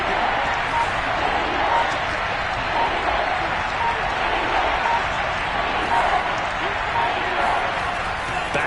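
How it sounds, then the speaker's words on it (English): Football stadium crowd before a big third down, a steady, dense roar of cheering and noise filling the whole stretch at constant loudness. "The crowd getting into it as we come up on a big 3rd down."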